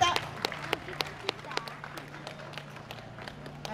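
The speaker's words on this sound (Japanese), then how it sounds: "なかなか動けないでいるのは拍手がちょっと少ないからかなと思います。" Sparse, scattered claps from an audience after an Awa odori dance performance at a traditional performing arts festival, individual hand claps ringing out over a quiet background hum.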